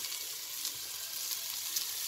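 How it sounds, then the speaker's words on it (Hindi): Mushrooms frying in hot oil for a vegetable soup, a steady soft sizzle and crackle throughout with faint stirring. "मशरूम्स को भी हम हल्का सा इस तरह से इसमें फ्राई कर लेंगे।"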